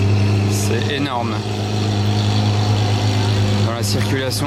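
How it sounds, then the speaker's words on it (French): A Lamborghini supercar's engine rumbles loud and steady in street traffic at Juan-les-Pins, a constant low drone masking any other car, with voices speaking over it. "la Bugatti on ne l'entend absolument pas à cause de la Lambo"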